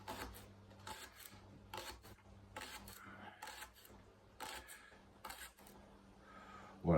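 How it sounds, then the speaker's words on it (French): A knife repeatedly strikes a cutting board while a shallot is finely sliced, producing a steady run of quick, close chopping bursts with short pauses, plus a faint low hum underneath. "J'en profite pour ciseler mon échalote en petites tranches"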